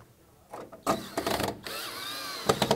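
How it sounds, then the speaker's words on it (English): Screws driven with a power tool into a strike plate of a vertical rod panic device, with short whirring runs and mechanical clicks between them, close and fairly loud. "It comes with a couple screws, ready to go. Screw that in there."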